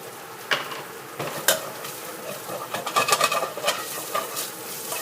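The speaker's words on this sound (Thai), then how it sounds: "ผัด รากกระเทียมแล้วผักชีกระเทียมพริกไทยหอมนะคะ" Garlic root, coriander, garlic and pepper stir-fried in a pan for kuay jab pa-lo, with a soft continuous sizzle broken by scraping stirs and light clinks of a utensil against the pan.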